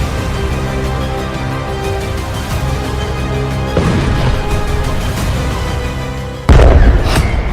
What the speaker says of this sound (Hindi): तीन धमाकों से दहला तेल अवीव